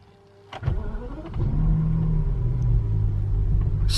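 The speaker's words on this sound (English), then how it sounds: "Let's fire the engine up." A BMW car engine cranks and fires with a sharp burst of clatter, then settles into a steady, close, low idle rumble that holds without talking.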